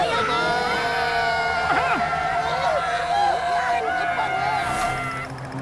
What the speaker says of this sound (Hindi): अब क्यों चिल्ला रहे हो?